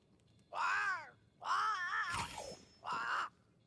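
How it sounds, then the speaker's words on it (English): A crow in the video game Banishers: Ghosts of New Eden gives three loud, harsh caws spaced about a second apart, the middle one longer with a rough crackling burst. "It's Ceridian, by way of the invisible, speaking through the crow"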